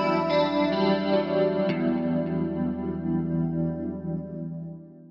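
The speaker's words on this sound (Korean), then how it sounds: "그렇지만 트레몰로를 추가하면" Electric guitar chords sustain with a steady pulsing, wavering volume, a tremolo throb from an Origin Effects RevivalTrem pedal running through the ringing notes as they slowly fade.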